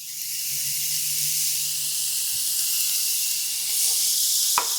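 Half a pound of ground beef sizzles in a preheated cast iron skillet, a steady loud hiss holding evenly from start to end, with a brief clank near the close.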